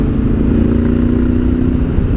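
Honda Africa Twin motorcycle engine running off-road on slippery ground, a loud, close, steady drone with a held whining tone and no clear separate pops or bangs.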